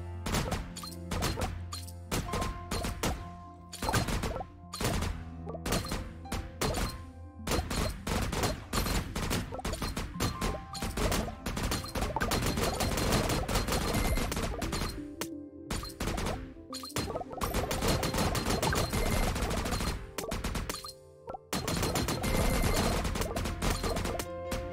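Grenade cannon blasts in the Geometry Arena 2 video game go off as a rapid, nearly continuous barrage of sharp explosive impacts, broken by only brief gaps.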